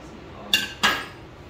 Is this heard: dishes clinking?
yes